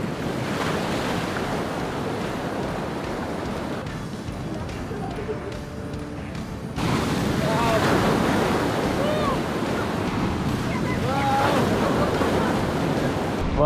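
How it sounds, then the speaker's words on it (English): Surf on Moreton Island rolls and breaks continuously on the beach with a steady wash of whitewater, growing louder partway through, with wind buffeting the microphone. "There's water coming down here everywhere in these waves."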